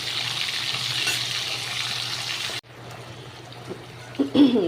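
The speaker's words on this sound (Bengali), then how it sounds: "মাছটা ভাজা হোক" Hilsa fish fries in a pan over a high flame with a dense, close sizzle that cuts abruptly to a quieter bubbling fry, ending with a few clinks and stirring sounds.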